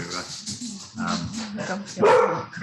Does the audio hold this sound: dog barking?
yes